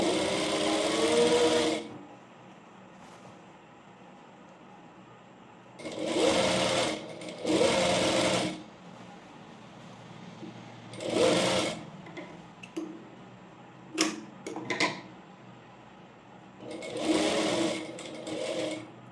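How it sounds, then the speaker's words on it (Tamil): An electric sewing machine stitching the neckline of an A-line frock runs in several loud, close bursts of rapid needle hum, stopping and starting with quieter pauses and a few clicks between. "கொஞ்சம் கொஞ்சமாக ஸ்டிச் பண்ணிவிட்டு பார்த்துக்கிட்டே இருங்க நெக்கெல்லாம் ஸ்டிச் பண்ணக்குள்ளே"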